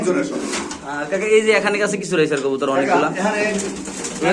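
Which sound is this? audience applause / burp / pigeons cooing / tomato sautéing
pigeons cooing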